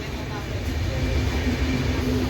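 Steady low rumble of a passenger train running, continuous and fairly loud throughout, with faint background chatter.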